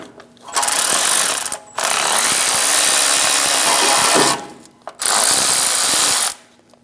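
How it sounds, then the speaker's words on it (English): A ratchet with a 14mm socket turns the nut off the back of a starter on a 2003-2025 Chevrolet Express 2500, in three loud, sustained ratcheting runs separated by short pauses. "Using a 14mm socket, we're going to remove the nut off the back of the starter."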